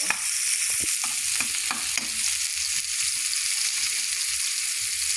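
Tomatoes sauté in hot oil in a pan with egg added, giving a steady, loud sizzle and frying hiss throughout, with scraping stir strokes near the start and no talk.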